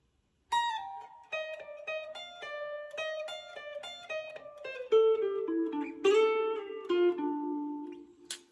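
An electric guitar lick from a solo, played live in 1992 style: a run of clean picked notes with bends and sustained tones, moving into a lower register, heard alone and up close.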